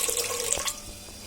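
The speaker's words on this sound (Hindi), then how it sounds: "ये सबसे पहले पानी डाल देंगे यखनी बनाने के लिए।" Water pours into a cooking pot for chicken yakhni, a short splashing, trickling stream that is loudest at the start and then tapers off.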